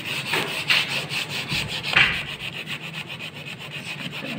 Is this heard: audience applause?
no